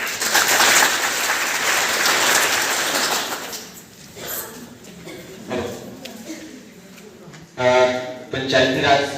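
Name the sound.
loud welcoming applause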